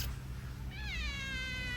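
A cat meows inside an orchid greenhouse, one drawn-out rising and falling cry, close and clear over a low steady background hum.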